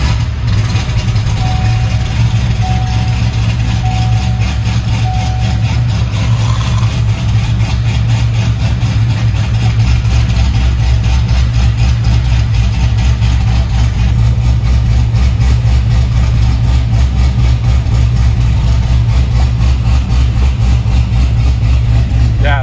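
A Corvette C6 Z06 fitted with an MPP exhaust idles steadily and loudly with a low, throbbing rumble that holds even for the whole stretch, with no voices.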